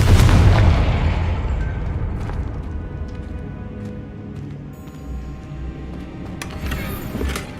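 A Confringo fire spell blasts in Hogwarts Legacy, opening with a loud deep boom that rumbles and fades into a sustained low roar, with small crackling bursts and game effects layered over the decay.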